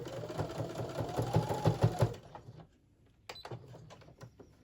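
Sewing machine back stitching through the thick, many-layered fabric of a notebook cover: a close, steady motor whir with rapid needle beats for about two seconds, then a pause and a few shorter stitching bursts.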